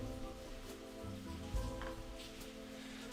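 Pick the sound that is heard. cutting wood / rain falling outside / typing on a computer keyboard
rain falling outside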